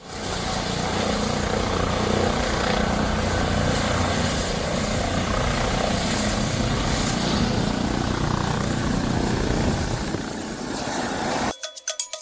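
A helicopter's loud rotor and engine roar fills the air continuously, steady and close, then cuts off abruptly near the end.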